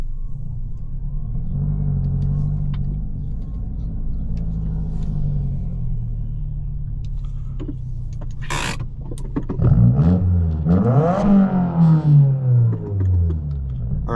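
A Subaru WRX engine rumbles low and steady while parking, then swells into a couple of louder, rising revs near the end, heard from inside the car.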